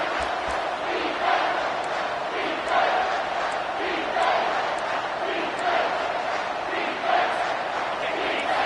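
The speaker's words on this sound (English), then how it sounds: "the crowd's giving them some juice." Football stadium crowd at a Georgia game roaring steadily as the defense is backed up at its own goal line, a dense, sustained wash of cheering with periodic swells, no clear speech on top.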